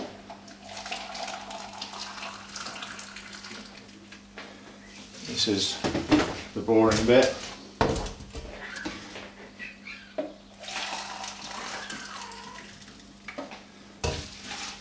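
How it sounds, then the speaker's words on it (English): Water from a tap runs into a saucepan holding nettle tops, thinly sliced ginger and lemon peel, splashing and rising in bursts midway through, with a steady hum throughout and someone speaking briefly over it. "We then add 4 pints of water."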